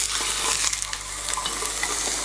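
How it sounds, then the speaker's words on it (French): Chicken searing in a covered pan over medium heat, a dense loud sizzle with a steady low hum underneath and brief crackling pops, no voices. "Ça commence déjà à saisir."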